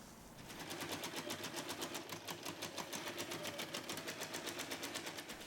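Sewing machine stitching a pocket onto a tote bag, a quiet, evenly pulsing run of rapid needle strokes that holds steady for several seconds after a soft start, heard alone.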